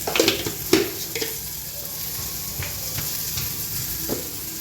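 Mustard seeds mixed with urad dal spluttering in hot oil in a Kerala home kitchen: a steady close sizzle with scattered sharp pops and crackles, louder at the start and then settling into a softer fizz.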